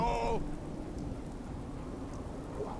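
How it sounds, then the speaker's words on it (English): Steady rain in the video game Fallout 4 hisses softly in the background, a faint continuous patter with a brief tonal sound at the start. "And it's raining."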